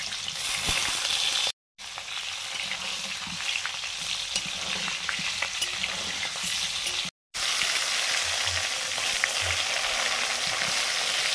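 Potato pieces for a meat curry fry in hot oil with a steady, close sizzle, stirred now and then, broken by two brief cuts to silence.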